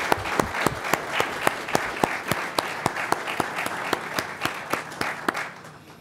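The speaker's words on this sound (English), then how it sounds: "I'd like to give them a round of applause." Applause rises from the audience at a fire academy graduation ceremony, many hands clapping with a few loud nearby claps standing out in a rhythmic beat before the sound tapers off at the end.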